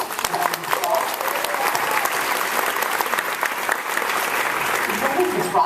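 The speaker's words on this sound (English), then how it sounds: "I just want to give them a round of applause" An event crowd at the NGLCC gathering breaks into loud, sustained applause, dense clapping and a few cheers filling the room steadily for several seconds.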